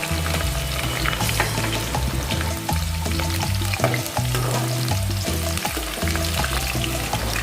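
Green chillies and onions fry in hot oil for a prawn curry, giving a steady, dense sizzle and crackle that runs loud and unbroken throughout, with no talking.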